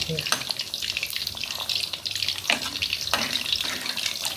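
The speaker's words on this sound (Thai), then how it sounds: "ตอนนี้แก้วแม่เขาทอดไฟอ่อนนะครับ" Minced pork mixed with glass noodles deep-frying in oil on low heat gives a steady, close hiss with a few brief louder crackles.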